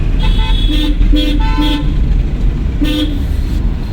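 Several short car horn honks ring out in quick succession, then a pause and one more toot, over a constant background of road and engine noise.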